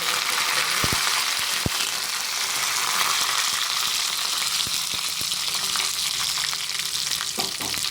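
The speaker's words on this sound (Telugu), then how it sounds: "వేసుకొని ఇలా ఫ్రై చేసుకొని ఈ పోపుని పప్పుచారులో వేసేసుకుందాం." A tempering of dried red chilies for Andhra-style pappu charu fries in hot oil, a loud, close, unbroken sizzle with a few sharp clicks from a stirring ladle.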